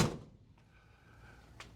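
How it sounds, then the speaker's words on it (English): A heavy classic car door slams shut once, loud and close, leaving a hushed interior with a faint click near the end. "shut the door"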